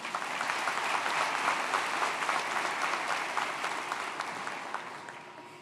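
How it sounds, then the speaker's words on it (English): Audience applause fills a graduation ceremony hall, a steady dense clapping from a large crowd that holds loud for several seconds and then slowly thins toward the end. "Let's give her a warm round of applause."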